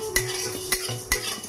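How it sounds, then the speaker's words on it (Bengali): Coriander, cumin and fennel seeds dry-frying in a hot wok, with three sharp scrapes and clinks of a spatula stirring against the pan over a soft, steady background. "কড়াতে ভেজে নেব"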